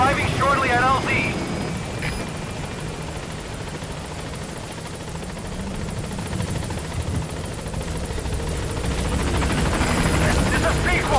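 Pequod support helicopter arriving in Metal Gear Solid 5: The Phantom Pain, a loud continuous rotor thrum and engine whine that holds steady throughout, with a brief radio voice near the start.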